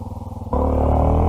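A Honda Africa Twin adventure motorcycle idles with a lumpy, pulsing beat, then the throttle snaps open and the engine jumps into a loud, sustained roar, close up on a forest track.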